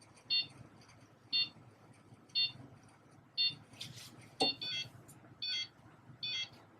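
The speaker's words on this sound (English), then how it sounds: "The scale is giving an alarm that we're done with it." A refrigerant charging scale's alarm signals that the charge is complete, repeating short electronic beeps about once per second, moderately loud over a quiet background.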